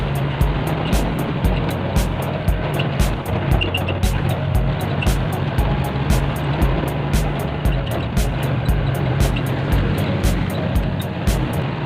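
A Honda Wave motorcycle engine runs steadily during a road test, a continuous low buzzing drone with wind rush and regular faint clicks, close and fairly loud throughout.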